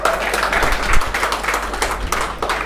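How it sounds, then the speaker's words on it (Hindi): An audience clapping at a kavi sammelan poetry gathering, a short spell of dense, fairly close applause with scattered sharper claps. "एक बार ताली तो बजा दो।"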